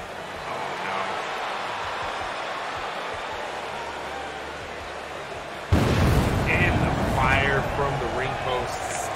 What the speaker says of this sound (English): Bigger explosion than the end of Revolution.